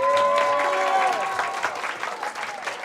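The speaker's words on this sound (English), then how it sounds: "please give Aden a big round of applause" Crowd applause and cheering for Aden Thao, number 55, at an Edison High School event, a steady wash of clapping with a voice or two carrying over it.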